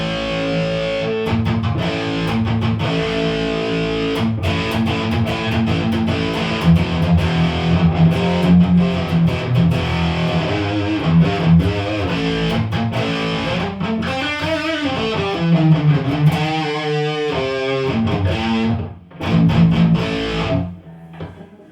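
An electric guitar plays through the overdrive channel of a Randall RH150 G3 Plus amp into a Marshall 1960 cabinet, giving crunchy distorted chords and riffs. The sound is loud and sustained, with brief pauses between phrases.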